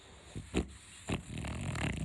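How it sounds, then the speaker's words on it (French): A dog snores close by with a few rough, snorting inhalations at uneven intervals, fairly quiet and alone. "Bon, il y a un souci, c'est qu'il ronfle. Il ronfle beaucoup."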